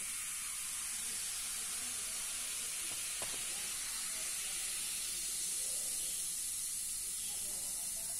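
Baking soda fizzing in half a tumbler of vinegar mixed with water, a steady broad hiss of bubbling that runs continuously and evenly throughout, with a brief faint clink partway in.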